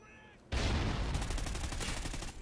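Dense, loud bursts of automatic gunfire from a Call of Duty Ghosts multiplayer match on a snowy map, erupting after a brief quiet moment and continuing in rapid rattling volleys with no talk.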